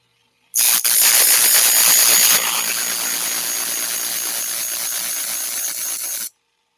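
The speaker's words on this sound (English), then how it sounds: "I think I got more than enough compound on this on the polishing wheel" A rotary quilting blade pressed against a compound-loaded polishing wheel gives a loud, steady high-pitched whine and hiss for about six seconds, easing slightly partway through before cutting off abruptly.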